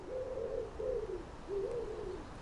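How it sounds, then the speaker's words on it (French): Turtle doves coo three times in a slow, soft repeated phrase, somewhat distant over a steady background hiss, with no talk. "Entendez les tourterelles?"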